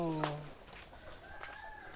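Darag native chicken on a farm gives a short clucking call near the start, followed by fainter bird sounds, under nearby speech.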